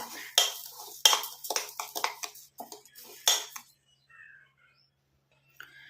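An iron kadai handled in a home kitchen gives a quick run of sharp metallic clanks and knocks for about three seconds, then falls almost silent with a faint scrape near the end.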